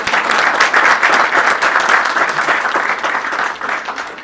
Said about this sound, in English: we must have a round of applause for what Sir Loha has been able to perform